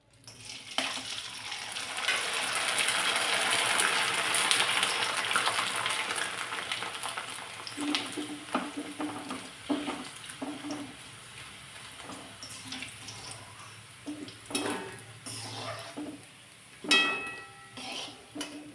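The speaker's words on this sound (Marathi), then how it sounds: "कढईमध्ये जरासं तेल गरम करायला ठेवलंय." Papad frying in hot oil in a kadhai (wok) gives a steady sizzling hiss that swells early, then breaks into scattered crackles and pops, close and moderately loud, with no talking.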